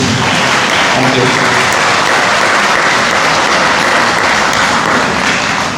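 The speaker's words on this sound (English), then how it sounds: "I also like to please hear your applause for this organizing team" Sustained, loud applause from the audience at a people's townhall on the PJ Dispersal Link highway, dense clapping filling the room steadily from start to finish with a murmur of voices mixed in.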